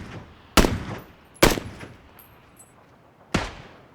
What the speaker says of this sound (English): He's just taking shots with the SKS.